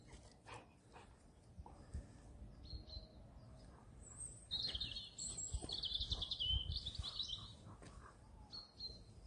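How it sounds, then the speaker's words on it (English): Outdoor birdsong with chirps and twittering calls, brightest in the middle stretch, over rustling footsteps and background noise; a crow frets nearby and a dog may bark nearby. "Now you can hear the bird song."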